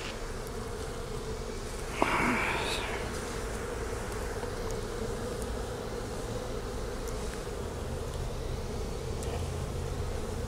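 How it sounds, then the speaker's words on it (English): Honey bees buzz steadily around a beehive, a continuous close drone of many insects with one brief louder pass near the start and no talking. "that bee definitely checked me out real quick there"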